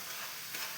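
Jackfruit bulbs deep-frying in oil for chips make a steady, dense hiss and sizzle, continuous and even, heard alone for under a second.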